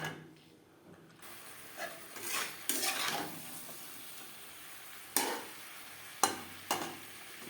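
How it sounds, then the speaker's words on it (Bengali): Cauliflower with spices being sautéed in a pan over high to medium flame gives a low sizzle broken by several loud scraping strokes of a spatula, with sharp clacks near the end. "মশলার সাথে ফুলকপি দু তিন মিনিট বেশ ভালো করে কষিয়ে নেব"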